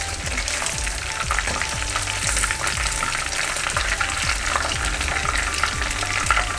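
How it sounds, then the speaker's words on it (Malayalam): Chicken pieces fry in hot oil for a ginger chicken dish, giving a loud, continuous sizzle and crackle with steady stirring or scraping pulses underneath and no talking. "ഇതുപോലെ നമുക്ക് ബാക്കി പീസ് കൂടെ ഒന്ന് ഫ്രൈ ചെയ്തെടുക്കാം"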